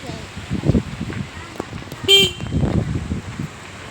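Vehicle horn giving a single short, loud honk midway, heard over people talking near a railway track.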